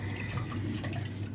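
Tap water runs continuously into a sink as food is rinsed under the stream, a close, steady splashing rush.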